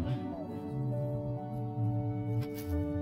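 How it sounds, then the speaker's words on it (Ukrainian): Quad bikes and motorcycles ride through sandy hills, a steady droning engine tone holding throughout with pitch shifts as the machines rev, rising and falling across the clip. "їздять на квадроциклах і на мотоциклах."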